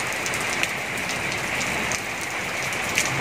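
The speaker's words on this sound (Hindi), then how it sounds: "और काफ़ी जम से बारिश हो रही है।" Heavy monsoon rain pours onto a rooftop terrace garden with a mango tree and a seating area, a steady dense patter and hiss throughout, with a few louder drips standing out.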